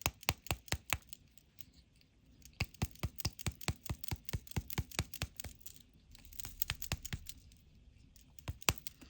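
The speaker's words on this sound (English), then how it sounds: "So I'll just kind of tap it a little bit. I'll roll it just to get the thing to start mixing." A nail polish bottle with a metal agitator ball is tapped and rolled by hand, giving a steady run of sharp, close clicks and rattles, with a short pause midway before the clicking picks up again.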